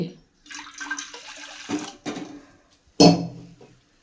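Water splashes and pours in bursts into a cooking pot on a lit stove, with a louder gush near the end, close by and clear, no talking.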